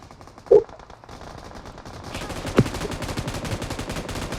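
Gunfire in a video game: a loud shot near the start, then a quieter stretch, then a building burst of rapid automatic fire with another sharp shot partway through.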